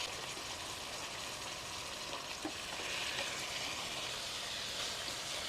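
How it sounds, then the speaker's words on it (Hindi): Green peas fry in a pan for matar pulao, giving a dense, even sizzle that holds steady and close for several seconds with light stirring. "अब मटर को फ्राई कर लेंगे अच्छी तरह से"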